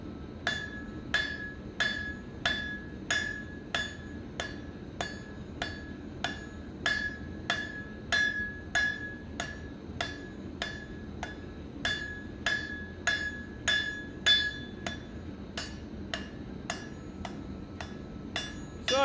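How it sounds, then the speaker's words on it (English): Steady, evenly spaced hammer blows ring out on a blacksmith's anvil as hot metal is forged into a flat screwdriver-like tip for a fire poker, each strike bright and metallic, close and clear with no talk. "So I typically hammer two sides of the metal, and I let the anvil do the other two sides for me."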